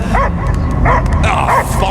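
A dog barking and whimpering in Marvel's Guardians of the Galaxy, several yipping barks at a steady pace over a low rumbling game backdrop, loud and close.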